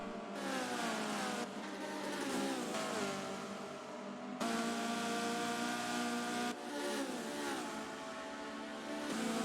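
A Datsun 510 race car in Forza Motorsport 7 revs loudly on an oval, its engine note climbing through the gears with sharp drops at each shift, steady and close with no voices.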